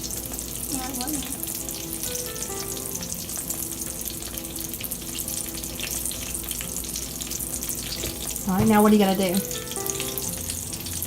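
Pancake batter sizzles steadily in a hot pan, frying throughout while people chat quietly nearby and a brief louder voice cuts in near the end.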